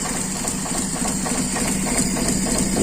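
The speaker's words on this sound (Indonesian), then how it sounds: "Kita naikkan dulu RPM, pokoknya mesin bisa hidup." Small carbureted engine idling after an air screw adjustment, a loud, steady running drone with a slightly uneven, rattly pulse throughout, close by and without talk.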